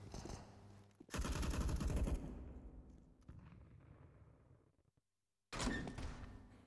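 Pistol shots in a competitive CS:GO esports match, London Esports versus Endpoint, come as dense bursts of loud gunfire with a sharp cluster around one second, a fading tail into silence, then another loud burst near the end.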